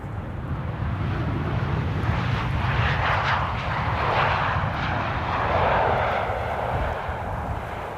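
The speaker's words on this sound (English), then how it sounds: "KLM flight 1216 returning from Stockholm" A KLM airliner, flight 1216 returning from Stockholm, passes at Amsterdam Schiphol Airport with a loud, steady jet roar that fills the whole stretch and swells slightly toward the end.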